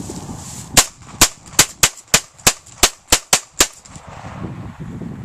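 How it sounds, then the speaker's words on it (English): A pistol fires ten sharp, loud shots in fairly quick succession, each crack ringing out sharply with short gaps between, outdoors and with no talking. "Here goes the pistol."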